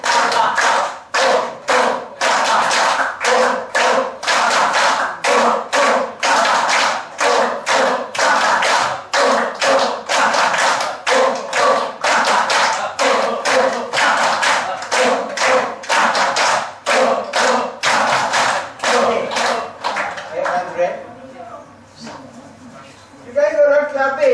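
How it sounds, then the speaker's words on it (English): A group claps hands forcefully and rhythmically in a hand-clapping exercise for acupressure points, dense steady slaps near and loud for about twenty seconds before slowing, with voices joining toward the end. "So first we are going to do clapping."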